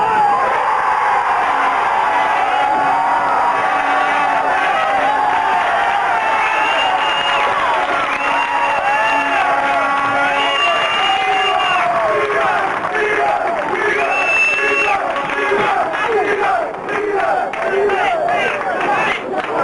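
A football crowd at a goal celebration makes a loud, continuous roar with cheering, whoops and chanting voices that swell and fall, close and dense throughout.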